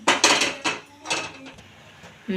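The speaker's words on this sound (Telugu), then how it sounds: "స్టవ్ వెలిగించుకొని కళాయి పెట్టుకున్నాం" Metal kadai (wok) set down on a lit gas stove, a few sharp clanks and scraping knocks of metal against the burner grate, close and loud, with short gaps between.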